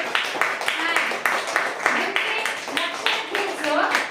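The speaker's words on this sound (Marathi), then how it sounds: "तिच्यासाठी जोरात टाळ्या द्यायच्यात आपल्याला" Steady rhythmic hand clapping from a group of young schoolchildren in a classroom, quick and fairly loud, continuing for several seconds with some voices mixed in.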